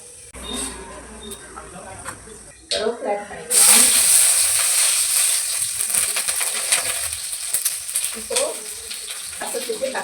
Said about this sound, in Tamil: இப்போது எண்ணெய் சூடானதும் கடுகு காஞ்ச மிளகா ஆட் பண்ணிக்கலாம்